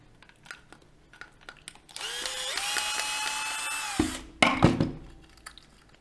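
Screws being driven out of the brew unit of a Nivona coffee machine with a power drill/screwdriver: a sustained whining motor run of about two seconds, followed by a brief louder rattling burst and scattered small clicks, close up with no talk.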